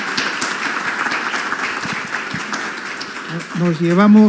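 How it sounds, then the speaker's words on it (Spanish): An audience at a panel discussion applauds its panelists with steady, dense clapping at close range, and a voice starts talking over the applause near the end. "yo les pido un fuerte aplauso para nuestros panelistas, expositores"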